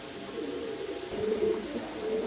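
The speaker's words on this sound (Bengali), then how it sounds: "এখানে এক পেয়ার কবুতর আছে" A pair of pigeons in a loft cooing, low rolling coos repeating close by over faint background noise, with no talk.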